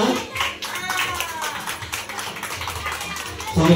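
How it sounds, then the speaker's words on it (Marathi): An audience claps at a children's potato race game, with quick bursts of clapping mixed with crowd voices and chatter. "टाळ्या वाजवा."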